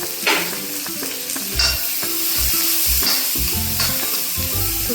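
Onion, garlic, ginger and green chilli frying in a pan, a loud continuous sizzle broken by bursts of stirring and scraping from a spoon, close up, with no talking.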